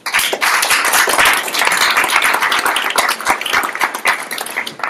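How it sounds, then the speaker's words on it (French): An audience claps enthusiastically after a presentation at a French business conference on chatbots: dense, crackling applause with sharp individual claps, lasting several seconds and tapering slightly near the end. "On peut l'applaudir."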